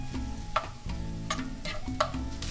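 Tempeh taco filling sizzles steadily in a pan, a close continuous fry with a few brief stirring scrapes on top.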